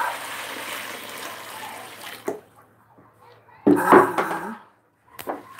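Well water is poured from a container, a rushing splash over a couple of seconds followed by short sloshes and clunks of the vessel, close and fairly loud, with no talking.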